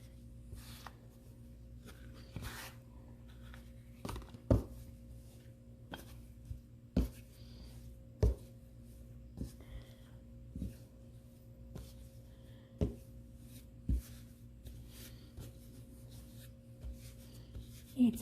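Soft, intermittent pats and squelches of sticky, wet sourdough dough being folded by hand, irregular taps spaced a second or two apart over a faint steady room hum.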